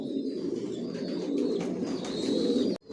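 Racing pigeons coo continuously and close together inside a loft, a soft layered murmur of overlapping calls that stops abruptly just before the end.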